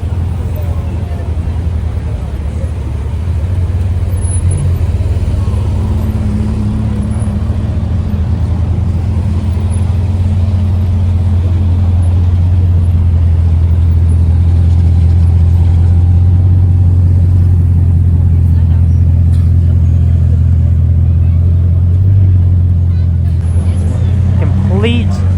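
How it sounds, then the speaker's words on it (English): A blue LaFerrari and a Bugatti Chiron creep into a crowded valet area during Monaco Grand Prix carspotting, their engines a steady low idle rumble with slight revving swells, close by and continuous. "It's the blue LaFerrari and the Chiron are attempting to pull in to the valet here."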